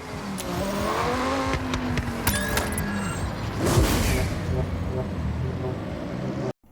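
Car engines in the video game Forza Horizon 6 hum and whine steadily at a moderate distance, with a brief louder surge midway, under a busy mix of mechanical noise.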